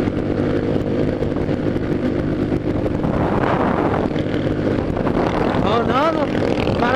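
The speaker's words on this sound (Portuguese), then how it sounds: "Tem mais moto atrás, hein?" A group of motorcycles rides along a road near Araras, their engines droning steadily under strong wind buffeting, while voices talk and shout over the noise.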